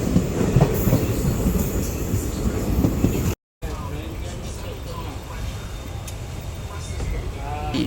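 Unreserved passenger train 57302, all-unreserved and nearly empty, rolls along the rails through a cutting, with steady rhythmic clatter and wheel noise heard from inside; a voice talks over it, and a short gap breaks the sound.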